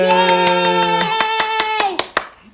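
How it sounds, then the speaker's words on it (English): Hands clap in a quick, even rhythm at a birthday celebration, crisp and close, under a sustained sung or musical tone that fades out near the end. "Clap."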